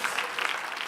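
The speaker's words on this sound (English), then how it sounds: "Clap your hands for Peter Ford." Audience applause at a success and breakthrough seminar, a steady wash of many hands clapping together at moderate distance, fairly soft and continuous throughout the short burst.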